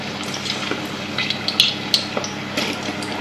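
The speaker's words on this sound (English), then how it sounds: "You hear them sizzling." Potato chips sizzle in hot, bubbling frying oil, a steady crackling hiss dotted with small sharp pops and clinks, close and moderately loud, with no speech.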